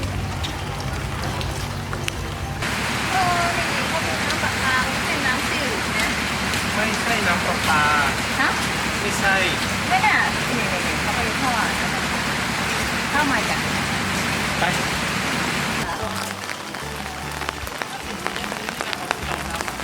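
Morning rain falls around eight o'clock in a floating village, a steady close hiss of drops that runs for nearly twenty seconds and softens slightly near the end.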